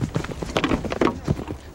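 Cavalry horse charging against a shield wall, hooves pounding in a rapid, loud clip-clop rhythm close by, with faint voices and clatter mixed in.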